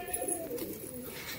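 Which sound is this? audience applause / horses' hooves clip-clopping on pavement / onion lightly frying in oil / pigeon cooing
pigeon cooing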